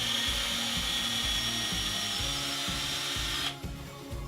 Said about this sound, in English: And then what we're going to do is we're going to pre-drill the wood as well.